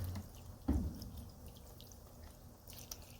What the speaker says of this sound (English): So let me simulate rain and melting water.